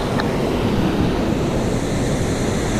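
The Tuolumne River below Hetch Hetchy in Yosemite National Park, a steady broadband rush of flowing water mixed with some wind noise, heard close and continuous without any voices.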